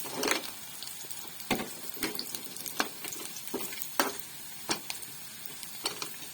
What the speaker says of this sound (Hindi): प्याज और मिर्च हमारी भून चुकी हैं।